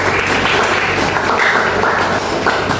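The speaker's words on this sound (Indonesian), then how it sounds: "Kita kasih aplaus dulu" A room of people at a university teaching session gives a short, dense round of applause, a steady patter of many hands clapping close by.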